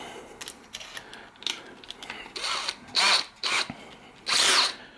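A cordless drill fitted with a Wera Kraftform Kompakt bit adapter buzzes in short bursts, starting faint and getting louder, with the last few triggers being the strongest and longest, close by.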